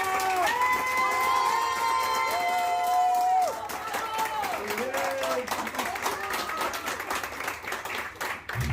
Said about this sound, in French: Je vais appeler Saïda et je vous demande de l'applaudir.